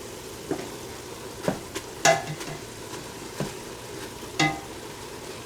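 Butter melting into browned hamburger meat in a frying pan, with a low steady sizzle broken by a few scattered scrapes and stirring clinks of a utensil.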